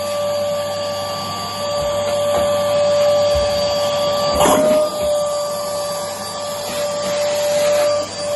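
A vacuum cleaner drones loudly and steadily nearby with a high whine, while faint whimpers and brief rustling sounds cut through.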